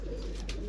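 A pair of pigeons cooing, one brief low throaty coo heard close and fairly faint against a steady background hum.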